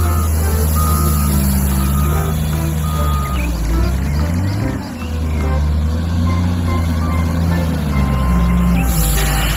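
A toy loader truck plays loud electronic reversing beeps mixed with engine-like sound effects, continuous and close throughout.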